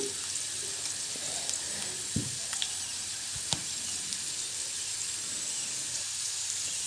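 Ivy gourd and paneer frying in a pan give a steady soft sizzle and hiss, with a few brief clinks or scrapes of stirring, fairly faint and close, no talking.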